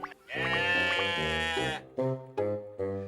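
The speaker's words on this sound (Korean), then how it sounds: "바로 양입니다." Sheep on a farm in Goheung, South Korea, bleating close and loud: one long wavering bleat followed by three shorter calls, with no talking.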